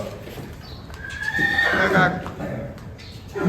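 Horses at a rural fair: one loud drawn-out neigh rises and falls over clip-clopping hooves and background chatter, fairly close.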